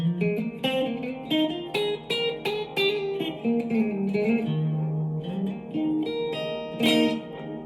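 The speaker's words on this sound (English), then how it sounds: "can hear it in the background swooshing around" Clean guitar notes through a Blackstar ID Core Stereo 10 V3 amp's stereo delay ring out with echoing repeats, the delayed copies washing and overlapping into a spacious, swirling tail.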